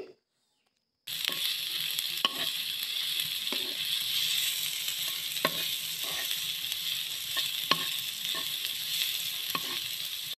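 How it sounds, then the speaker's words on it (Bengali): Chopped onions frying in oil give a continuous close sizzle, broken by repeated scraping and clinking strokes of a spatula, after a second of silence at the start. "তারপর পেঁয়াজ কুচি ভেজে নিচ্ছি। সুন্দর করে হালকাভাবে পেঁয়াজ কুচিটাকে ভেজে নিতে হবে।"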